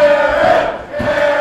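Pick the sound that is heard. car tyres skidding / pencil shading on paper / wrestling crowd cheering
wrestling crowd cheering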